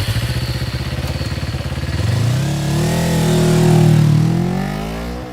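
A motorcycle engine runs close by, first with a rapid pulsing idle, then revving up into a rising, smooth drone as the bike pulls away and accelerates.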